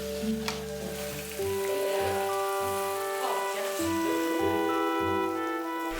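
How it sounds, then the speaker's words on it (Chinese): Sheep intestines frying slowly over low heat in a pan, a soft continuous sizzle with crackling pops and a sustained tonal hum running underneath, no talk. "而且火也不能太大，慢慢煎，慢慢煎。"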